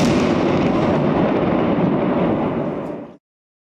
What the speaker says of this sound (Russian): Взрывные устройства, которые были у боевиков, детонируют, и тоннель полностью разрушается.